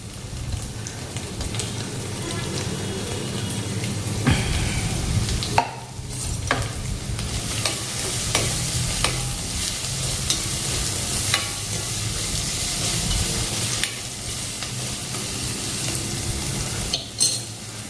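Green chili and tomato fry in a pan for a Goan egg chilli, a steady sizzle running throughout with repeated scrapes and clinks of a spoon stirring against the metal.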